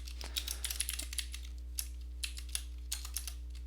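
Quiet typing on a computer keyboard, with a steady scatter of soft clicks and light taps over a constant low electrical hum, and no voices.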